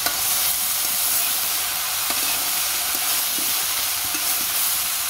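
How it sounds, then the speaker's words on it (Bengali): Dried red chillies fry in hot oil, a continuous dense sizzle and hiss with faint stirring taps, close and steady throughout, no voices. "এই শুকনো মরিচ ভেজে রাখছি"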